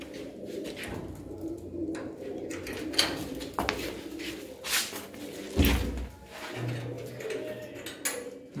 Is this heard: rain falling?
no